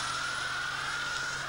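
A Dutch-driven tractor-pulling machine named Silver Bullet, running on biodiesel, roars at the start of a pull, giving a loud, steady engine drone with a sustained high whine and no audible break.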